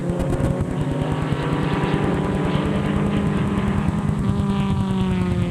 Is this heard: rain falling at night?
no